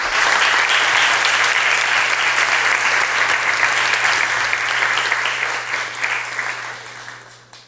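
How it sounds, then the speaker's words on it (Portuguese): Sustained applause from an audience at a formal junior council ceremony honoring a teacher, dense and steady clapping with a low hum underneath, tapering off toward the end. "peço a todos uma salva de palmas a esse verdadeiro mestre"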